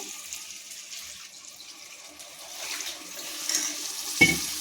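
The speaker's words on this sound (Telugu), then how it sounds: "గ్రేవీ కోసం కొంచెం నీళ్ళు వేసుకోవాలి" Water poured into a simmering capsicum curry, a soft trickling splash with faint bubbling, ending in a brief clink near the end.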